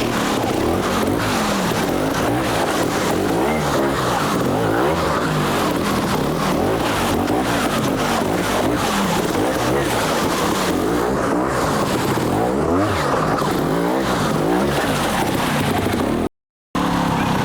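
A trials motorcycle on brand new tyres revs hard in third gear, its engine note loud and continuous with rising and falling throttle, cutting off abruptly near the end.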